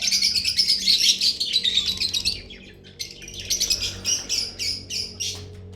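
A breeder pair of lovebirds, a green opaline male and a blue pastel splitino female, chirps rapidly with busy high tweets and short squawks close by over a low background hum.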